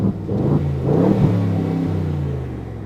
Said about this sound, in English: exotic V8 sound. Like, it's not a traditional, small block Chev sound.